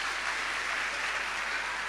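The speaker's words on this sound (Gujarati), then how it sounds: "એક તાળી એમના માટે બી પાડો છો." Seminar attendees give a steady round of clapping in a hall. It is fairly soft and uniform and continues throughout, with no talking.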